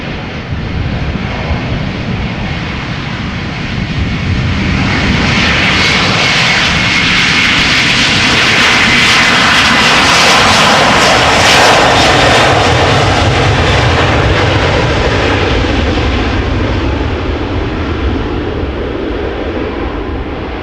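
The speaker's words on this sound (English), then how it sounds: "Always nice and noisy, those A330s." A KLM Airbus A330-300 at Amsterdam Schiphol airport roars past with its jet engines, a loud, continuous broadband rumble and hiss that swells to a peak midway and then slowly eases.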